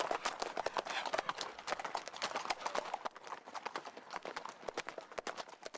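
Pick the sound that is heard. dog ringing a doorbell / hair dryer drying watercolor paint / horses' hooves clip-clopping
horses' hooves clip-clopping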